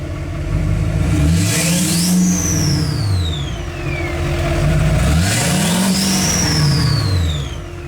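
A dually pickup truck's engine revs up twice, each time climbing to a loud roar and then falling back to a steady idle. The engine is close, with no one talking.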